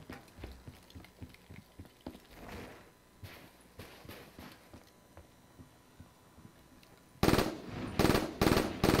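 Rapid automatic gunfire in Call of Duty Black Ops 3, distant bursts and scattered shots with footsteps early on, then a much louder close burst of fire near the end, no voices.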